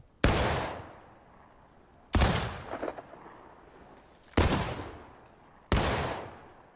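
Black-powder rifles fire a ripple volley from right to left at a Civil War reenactment drill of the 33rd Virginia: four sharp, loud cracks about two seconds apart, each trailing off in a short echoing decay.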